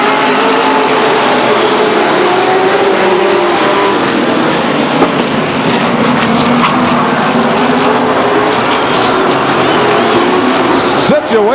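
Grand American Modified Division race cars at Stockton 99 Speedway roar loudly and continuously as they accelerate past together, a dense engine drone under crowd and track noise.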